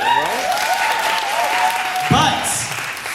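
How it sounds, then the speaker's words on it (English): Audience at a poetry slam show clapping for a poet, a dense, sustained wash of applause throughout with voices rising over it. "make sure to clap it up for him, please"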